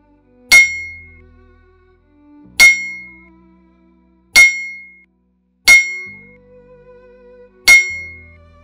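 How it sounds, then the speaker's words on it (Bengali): Five loud metallic bell clangs ring out alone, spaced about every one and a half seconds, each striking sharply and then fading, with a faint low hum in the gaps between them. "সকাল হলে অনিল ঘন্টা নিয়ে বের হয়ে পড়ে ঘন্টা বিক্রির উদ্দেশ্যে।"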